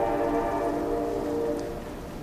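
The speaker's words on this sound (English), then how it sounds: "The train going by shakes the glass in" A train rolling past close by, a loud continuous rumble with sustained tonal drone that slowly fades as it moves away, heard indoors with no talking.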